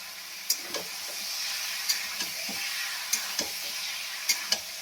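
Carrots, beans and onion sauté in a pan for chicken soup with a constant sizzling hiss, punctuated by sharp ticks and clicks of a spoon against the pan at irregular intervals, close and without talking.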